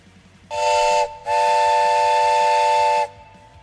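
A stream hype train alert sound effect plays loud and close: a brief steam-whistle-like tone, a short gap, then a longer sustained whistle blast, over faint background noise.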